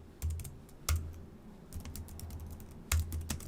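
Keys tapping on a computer keyboard at a live online class, with a few loud isolated keystrokes and softer scattered clicks between them, close up with no talking.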